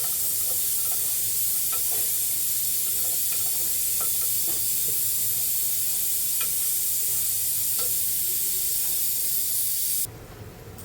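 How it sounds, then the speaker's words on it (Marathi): Chopped onion softens in a clay pot for a mutton dish, a steady low sizzle and hiss running throughout with occasional soft stirring scrapes, ending abruptly into quieter room tone. "आता कांदा मस्त असं शिजून घेऊ आपण."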